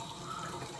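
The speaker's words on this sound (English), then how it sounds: "run the water" Tap water running steadily into a sink as shaving lather is prepared, a soft continuous splash heard close by with no talking.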